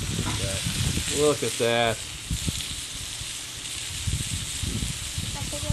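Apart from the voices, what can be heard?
food frying on an Ofyr grill's cast iron side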